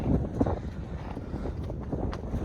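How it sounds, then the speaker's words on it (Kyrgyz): Wind buffets a microphone outdoors as a storm begins ahead of heavy rain, a low, uneven rumbling roar with a few stronger gusts, steady throughout the short stretch and free of talk. "Шамал башталды."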